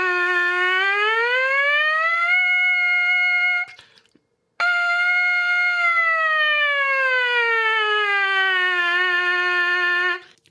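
A trumpet plays a smooth siren warm-up, one long unbroken tone sliding up and holding, a brief pause, then a re-articulated top note gliding steadily back down, loud and close with no talking.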